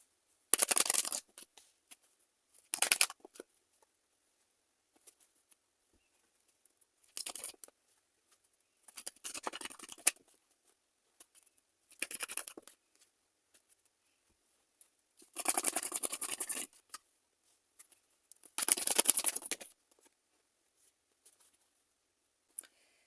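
Tarot cards are shuffled in short, separate bursts of papery riffling, close and crisp, with quiet gaps between each burst and no voices.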